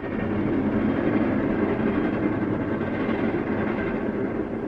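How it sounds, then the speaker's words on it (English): A train runs steadily along its rails, a loud, continuous rumble with a faint clickety-clack of the wagons, heard alone without any voices. "I hate the train."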